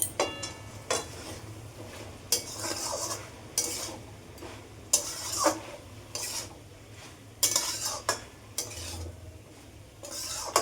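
Ash gourd leaves cooked with cumin powder and other ground spices, stirred in a pan with repeated scraping and clinking strokes of a spoon over a low, gentle sizzle, close up and without speech.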